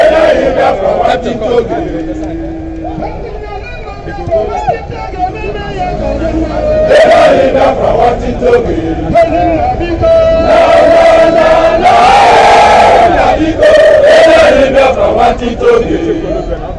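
Large protest crowd of demonstrators in Rome, Italy, a loud continuous hubbub of many voices with surging shouts and chanting, dense and near throughout, swelling louder in the second half.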